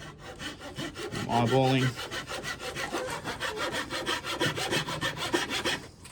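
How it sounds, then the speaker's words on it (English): Hand saw cutting wood for a cigar box guitar build, close and steady with rhythmic back-and-forth strokes throughout and a brief spoken comment early on. "I always put the tip of my saw on the marking"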